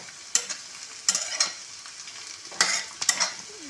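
Onions sauté in a pan for poha, with a soft background sizzle and four or five loud spatula scrapes in quick bursts.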